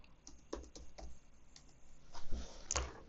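Typing on a computer keyboard to enter a router login name and password, a string of quiet, irregular close key taps with a denser flurry toward the end, no speech.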